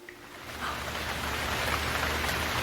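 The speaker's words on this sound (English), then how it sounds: "And then it started to rain." Rain falls steadily in a dense, even hiss that swells slightly after the first half second and holds, with no voices.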